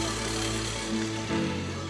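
A lathe spins wood at 2,400 RPM while chess pieces are turned, giving off a continuous loud machine hum with steady tones that shifts in pitch briefly partway through.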